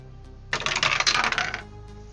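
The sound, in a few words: dice rolling during tabletop roleplaying game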